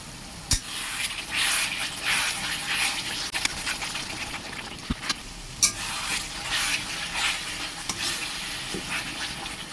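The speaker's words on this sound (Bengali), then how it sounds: "ততক্ষণ না মশলার কাঁচা গন্ধটা চলে যাচ্ছে আমি কষতে থাকবো" A spice masala with tomato is stirred in a pan over gentle heat, giving a soft, steady sizzle broken by scattered sharp scraping clicks of the spoon against the pan.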